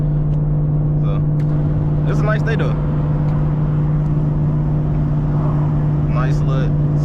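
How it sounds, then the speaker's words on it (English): A supercharged 850hp Chevrolet Camaro ZL1 engine drones steadily while driving on a cold, sunny morning at -2°F. The hum stays loud and constant throughout, with someone talking over it. "y'all basically just hear the engine, you know what I'm saying, the supercharger or whatever"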